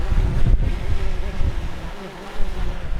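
Strong gusting wind buffets the microphone in a roughly 40 mph gale while a drone is flown into it, a loud, continuous low rumble with surging blasts throughout.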